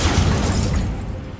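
The Incendio fire spell blast in the game Hogwarts Legacy: a loud, close burst with a rumbling low body that fades over about a second, heard alone.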